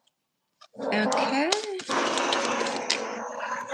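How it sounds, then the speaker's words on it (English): Dogs play-fight indoors, growling, grumbling and whining continuously at close range, with a voice briefly heard. "My dogs are fighting. They're play fighting."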